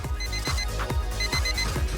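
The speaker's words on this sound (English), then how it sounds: "then the timer went off" A kitchen timer goes off in a MasterChef UK cooking competition kitchen, giving a steady run of rapid, loud electronic beeps in an even repeating rhythm, alone with no talking.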